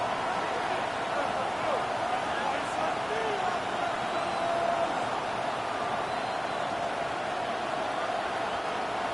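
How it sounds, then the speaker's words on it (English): College football stadium crowd on third and long, a dense, sustained roar of many voices at steady loudness, with a tone running through the wash of noise. "This crowd turning up the decibel level."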